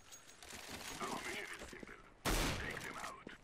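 A gun fires through a wall in CS:GO, with a loud, sudden burst late in the clip following quieter game noise, and a voice talks over it.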